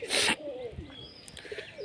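Soft cooing of dove-type pigeons sits low in the mix, following a brief burst of rustling at the start; the birds sound close but quiet.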